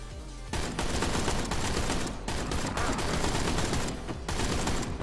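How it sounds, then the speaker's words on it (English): Dense, continuous gunfire from the video game Mother Russia Bleeds, loud bursts of rapid shots filling nearly the whole stretch with only brief gaps. "that guy took a gunshot and he got back up"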